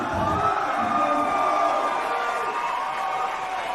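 A fight-night crowd cheers and whoops at a live title bout, a loud, sustained roar with a few rising shouts and a tonal call carrying over the noise before it eases slightly toward the end.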